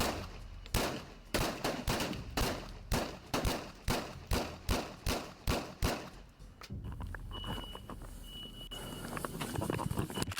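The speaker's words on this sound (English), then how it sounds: "his rampage was brought to an end by a storm of gunfire" A storm of gunfire in a police shootout: a rapid series of about a dozen sharp, loud shots in steady rhythm, followed by a noisier, chaotic stretch of scattered sound.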